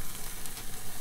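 Venison wrapped in bacon deep-fries in hot bacon grease with a loud, steady, close sizzle and dense crackling throughout.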